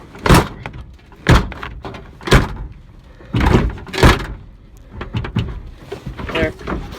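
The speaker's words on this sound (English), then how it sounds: "Front door shut somewhat." Ford Ranger truck front door being shut repeatedly, several loud solid thunks spaced about a second apart, close by in light rain, with a voice talking between.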